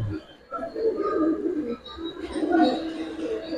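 Working pigeons from a large collection coo in low, throaty bursts across the clip, fairly close, with murmured human voices underneath.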